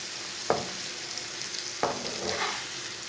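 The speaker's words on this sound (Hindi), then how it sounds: "सब चीज़ों को अच्छी तरह मिक्स करके 2 मिनट तक भून लेंगे।" Spices, tomatoes, ridge gourd and egg sizzle in a pan under a steady hiss, with two sharp stirring scrapes near the start and near the middle. No one speaks.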